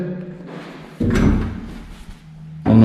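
A drawer slides open or shut in a closet with air ducts, giving a dull wooden rumble and thud in the middle, then another knock near the end, with no talking.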